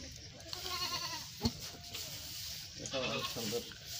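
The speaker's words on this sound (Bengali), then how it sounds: "এটা হরিয়ানা পাঠা" Haryana breed buck goats, one light red, bleat on a goat farm. Two wavering bleats come close together, and people talk nearby.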